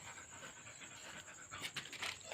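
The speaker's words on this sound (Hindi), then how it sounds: "कुत्ता भी ढूंढ रहा है" A dog panting while it searches for food outdoors: quick, quiet rhythmic breaths close by, rising slightly toward the end, with no talk.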